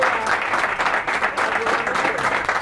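An audience at a Cretan music event in Ano Liosia applauds loudly and steadily, a dense wash of clapping hands that holds for the whole stretch, with faint crowd murmur underneath.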